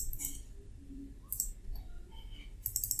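Keystrokes on a computer keyboard while entering commands for a Raspberry Pi file server, a few light, irregular clicks at close range over a low hum, with no talking.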